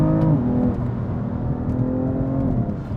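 A BMW M3 CS turbocharged engine revs loudly and steadily, its pitch holding then rising toward the end, up close with no talking.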